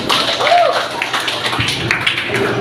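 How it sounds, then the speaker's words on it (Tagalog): An audience claps after a spoken address by Jaime Bautista, a dense, even patter of many hands that holds steady at moderate loudness throughout. "Isang malakas na palakpak po."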